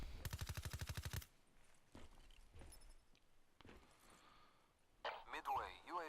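Pharaoh Auto Burst gunfire in Black Ops 3 fires a rapid string of loud, close shots in the first second, followed by quieter in-game movement and clatter, then a burst of noisy game effects near the end.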